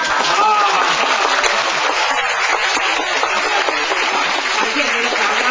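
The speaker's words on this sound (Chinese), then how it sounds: "感谢你的掌声，非常温馨" Applause from the audience at a school literature-camp lecture on Hakka culture and folk songs, a continuous crackling patter of many hands clapping throughout, fairly loud and close.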